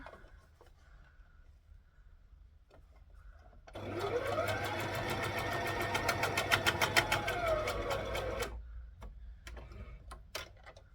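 A sewing machine stitches a rashie in a steady, fast run of needle strokes lasting about five seconds, loud and close, with quiet handling sounds before and after.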